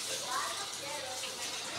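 Tap water runs steadily in a kitchen as hands are washed while salmon is being prepared, a continuous close hiss and splash with no pauses.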